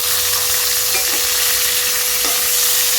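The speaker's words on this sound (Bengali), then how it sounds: "আমি একটা আলু কেটে নিয়েছিলাম সেটা দিয়ে দিলাম" Cut potato pieces frying in oil with whole garam masala spices (cardamom, cinnamon, cloves), giving a steady, close broadband sizzle with a few faint stirring clinks and no talk.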